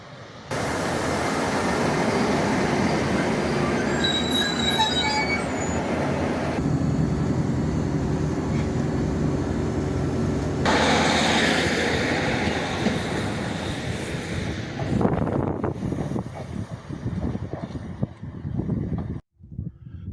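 A train rides toward Penistone on a British rail line, with a steady loud rumble and wheel noise filling the cabin, shifting in tone partway through before slowing and quieting near the end, with no talking.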